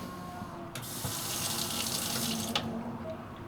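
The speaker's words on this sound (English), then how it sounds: "you can touch the faucet and wash your hands, and then touch it again and it turns off" A touch-activated faucet runs steady water into a sink. The flow starts abruptly, hisses evenly at a fairly quiet level, then cuts off near the end, with faint clicks around it.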